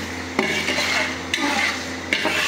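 Chicken being turned in oil in a pot for Hyderabadi biryani gives a steady frying hiss, broken by three sharp spoon knocks against the metal at even intervals.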